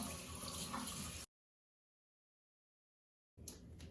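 Herbs and produce are rinsed under a running tap, a steady, quiet hiss of water. It stops abruptly, then resumes after about two seconds of silence.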